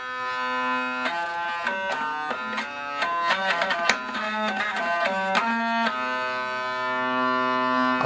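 A hurdy gurdy plays down through its low register to C3, with a buzzing, reedy drone under shifting melody notes and rhythmic trompette-like clicks in the middle, loud and close with no talking.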